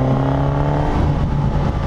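A 2021 Suzuki GSX-S1000 four-cylinder motorcycle engine hums steadily with a droning, slightly rising tone, close by and continuous without any talk.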